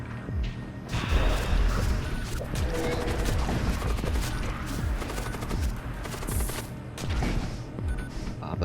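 Rapid volleys of magic missile weapons firing in the spaceship combat game Void War, dense crackling bursts and impacts layered over one another, loud and continuous.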